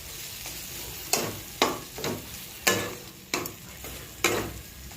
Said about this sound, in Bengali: এবার আমি এই যে কড়াইয়ের মধ্যে দিয়ে নাড়িয়ে নিচ্ছি।